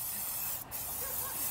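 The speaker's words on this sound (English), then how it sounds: "Molten brown spray." Molton Brown body spray hissing from an aerosol can in a steady, close, continuous burst that fills the whole moment, with a brief dip partway through and no talking.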